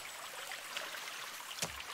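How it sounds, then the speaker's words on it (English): A small waterfall in the survival game The Forest, a soft continuous trickle and splash of flowing water heard at moderate level, with one brief sharper splash near the end and no speech. "Now that sounds nice. A little waterfall."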